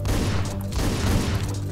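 Shotgun blasts in Hotline Miami 2, a top-down PC action game, run as a dense, steady volley of heavy booming gunfire with no clear gaps, loud and close throughout.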